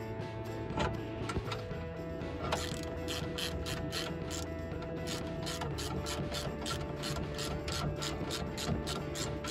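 A ratchet wrench works on the rear shock absorber of an Opel Corsa D, clicking in fast, even, continuous runs close by for several seconds, with no talk.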